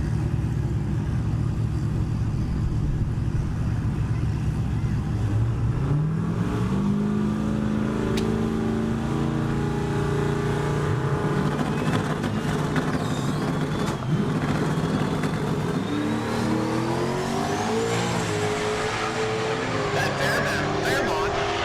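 Two drag race cars, an S10 in the left lane and a Fairmont in the right, launch and accelerate down a dragstrip, engines revving loudly and rising in pitch over continuous crowd and track noise, with a commentator talking.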